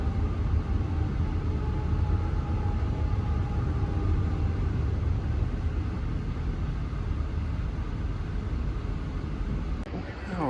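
A train passing through downtown Flagstaff, heard as a loud, steady low rumble that fills the whole stretch and eases off slightly at the very end.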